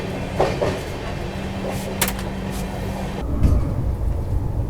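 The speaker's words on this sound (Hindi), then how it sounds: "यहाँ पर जाती हुई दोस्तों आप लोगों की लखनऊ नई दिल्ली तेजस एक्सप्रेस" The Lucknow–New Delhi Tejas Express rushes past on the rails in a loud, steady rumble, with a sustained hum and a few sharp clacks before the sound shifts to a deeper roar.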